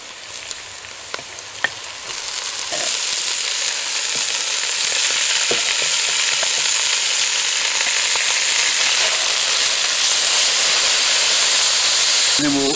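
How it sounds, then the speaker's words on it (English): Steady, loud sizzling of beef searing in a hot Dutch oven, a continuous crackling hiss that swells after a couple of seconds and holds without talk. "Oh, listen to that sizzle."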